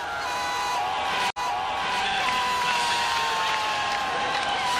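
Sold-out crowd cheering at Reynolds Coliseum ahead of a top-10 NC State Wolfpack women's basketball game against Louisville, a loud continuous roar with a brief cut partway, and an announcer talking over it.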